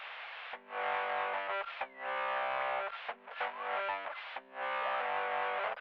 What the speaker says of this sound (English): Radio bad connection.